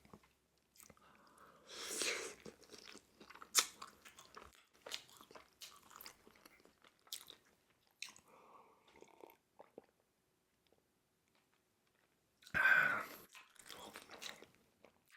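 Close, wet chewing and crunchy bites of saucy fries and chicken wings from Costco, irregular mouth sounds and smacks with quiet pauses and a louder crunch near the end, no talking.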